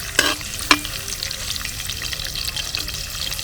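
Green chillies, ginger and garlic fry in a hot pan with a steady, close sizzle, broken early by a couple of sharp clinks as they are stirred.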